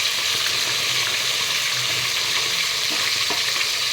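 Vegetable stalks frying in a hot pan give a steady, close, dense sizzle throughout, with a few brief stirring clatters and no voices.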